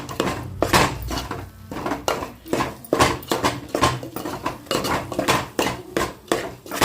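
A spatula repeatedly scrapes and knocks against a pan while grated coconut is stirred and roasted for coconut barfi, making steady rhythmic clattering strokes, close and fairly loud.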